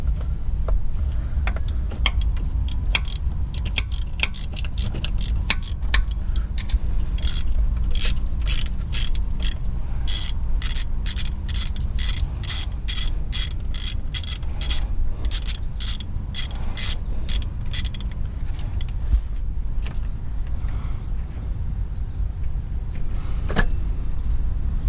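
A ratchet on long wobble extensions clicks in fast repeated bursts while loosening AC compressor bolts on a Pontiac Sunfire, with a continuous low hum in the background.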